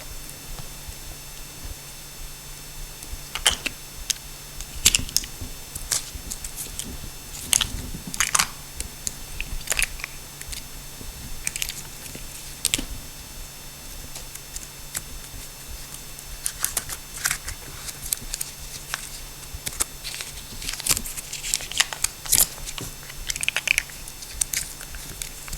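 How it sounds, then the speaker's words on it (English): A utility knife slices ceiling insulation and the material is pulled apart by hand, making scattered crisp crunches, rips and rustles close by, with irregular pauses between them. "Take a utility knife, just cut the insulation on the outside and take it apart and separate it"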